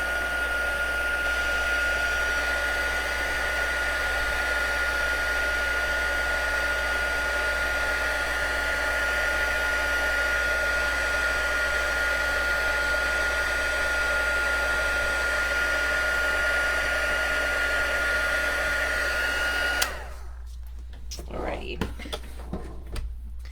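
A heat tool blowing a steady, loud whooshing hiss for about twenty seconds while melting embossing powder for card making, then cutting off abruptly and leaving quiet.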